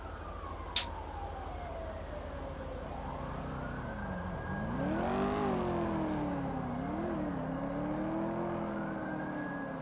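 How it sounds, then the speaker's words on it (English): In a roleplay video game, a car engine rises and falls in pitch as it revs and shifts. The sound is continuous and moderately close, with a short click near the start and no talking. "Personally, I actually like the car sounds"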